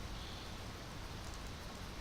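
Steady rain in the point-and-click adventure game Secret Files 2, a dense, even hiss of falling water that holds at a constant level throughout with no voices.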